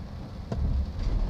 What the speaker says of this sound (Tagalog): Sa kasalukuyan ay umulan dito sa Parañaque, sa may Okada.